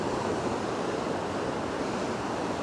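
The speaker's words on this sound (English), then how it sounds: "As I'm walking around, the waves are crashing" Ocean waves crashing on a shore make a dense, continuous roar of surf, steady and loud with some wind noise on the microphone, no speech.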